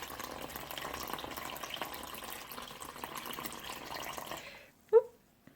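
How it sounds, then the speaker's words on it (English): Water pouring steadily onto kitchen scales while making homemade sourdough, a continuous trickle and splash lasting several seconds before stopping, followed by a single sharp knock. "You can see I am spilling my water."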